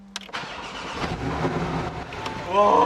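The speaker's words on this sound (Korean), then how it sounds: "시동부터 먼저 걸어보자 우선 시동부터 걸어보고 키가 왼쪽에 있어요 배기 한번 들려드릴게요" An imported car's engine cranks and catches, settling into a rough idle before the exhaust swells into a louder rev near the end, heard close by.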